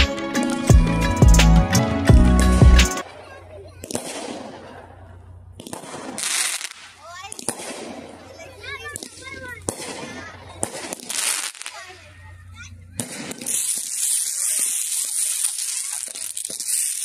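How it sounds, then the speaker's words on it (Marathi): Firecrackers go off for Diwali on a temple campus outdoors, with scattered crackling pops and bursts at varying distances. Music plays at first and people talk between the bangs. "फटाके आम्ही मंदिराच्याच कॅम्पसमध्ये लावले होते, कारण इथे परमिशन आहे"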